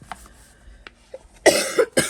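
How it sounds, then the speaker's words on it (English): Harsh coughing from a person with a bad cough, a faint cough early on followed by a loud burst of three or four rough coughs near the end, close and clear. "I just really have a terrible, terrible, ferocious cough"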